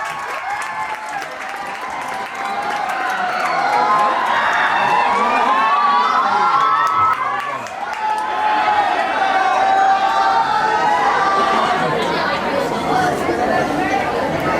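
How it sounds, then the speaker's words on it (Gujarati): At an institute's annual function, an audience applauds strongly to welcome a guest onto the stage, a sustained wash of clapping mixed with crowd chatter and occasional shouts. "જોરદાર તાળીઓ થઈ જાય."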